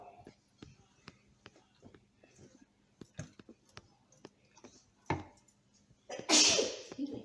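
A single close, sharp sneeze in a home kitchen while cream of mushroom soup is being made. It comes near the end after scattered light clinks of utensils and other small kitchen sounds.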